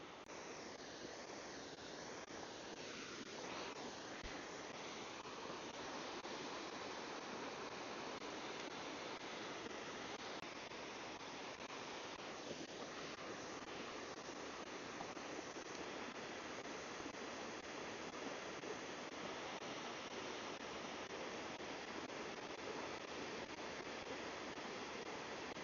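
Steady, loud broadband rush of a waterfall, heard up close from one side of the falls where fish are sought, a constant roar with no pauses and no voices over it.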